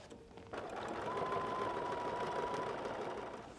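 A domestic sewing machine top stitching through a quilted fabric bag, running steadily and continuously at close range with a fast mechanical whir and a faint whine, starting up just after a brief quieter moment.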